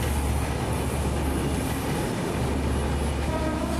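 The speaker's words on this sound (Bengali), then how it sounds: "পাশে ট্রেন অবস্থিত" A train runs past beside a three-katha land plot in Board Bazar, Gazipur, a steady loud rumble of rolling rail cars with a low drone and continuous clatter.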